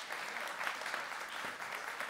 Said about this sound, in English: you want to welcome them up by giving them a round of applause.